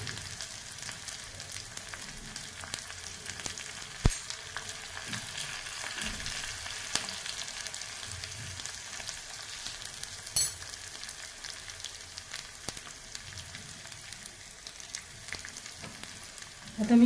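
A tempering of green chilli, ginger, garlic, asafoetida and curry leaves fries in hot oil for methi bhaji, a soft continuous sizzle with occasional sharp pops and stirring clinks, close and unvoiced throughout.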